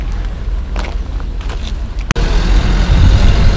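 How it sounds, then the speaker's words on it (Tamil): A bus pulls away on a road in Goa, its engine rumbling low and steady close by, then growing louder and heavier as it moves off. No voices are heard. "என்னோட பஸ்ஸு போகுதுன்னு நினைக்கிறேன்"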